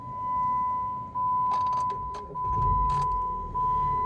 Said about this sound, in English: let's start the vehicle back on